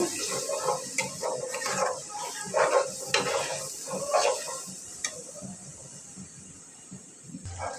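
Ground masala is stirred into chicken pulao with hot water in a pan: wet, rhythmic scraping and sloshing bursts over a soft sizzle, easing off toward the end.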